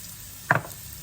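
Hot red pepper and salt fry in a pan under a quiet background sizzle, broken by one brief, sharp clatter of stirring midway.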